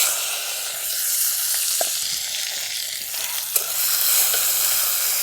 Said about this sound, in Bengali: টমেটোগুলো আমি একটু ভাজা ভাজা করে নেব।